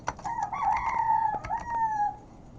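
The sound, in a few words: rooster crowing at night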